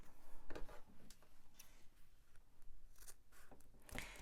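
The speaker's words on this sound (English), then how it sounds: "I'm going to trim off my excess zipper." Several sharp snips of scissors cutting through the excess end of a zipper on a sewn fabric pouch, close and crisp with short pauses between cuts in a quiet room.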